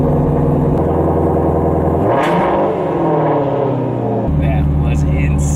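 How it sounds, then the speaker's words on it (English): A Shelby GT350 engine fires up and revs, the pitch rising and falling through a loud rev before settling back to a steady, rumbling idle. "Let's crank up the car."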